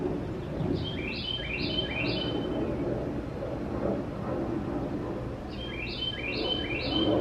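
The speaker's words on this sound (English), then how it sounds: "if the birds would shut up" Birds chirp outdoors in short bright bursts, two clusters of quick repeated tweets near the start and end, heard over a steady low rumble of background noise.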